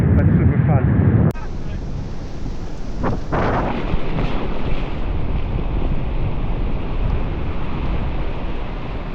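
Steady wind rush and buffeting across a microphone while wave windsurfing at Tarifa in light wind, with surf washing underneath; a loud blustery burst opens before settling into a continuous hiss, with a couple of brief knocks.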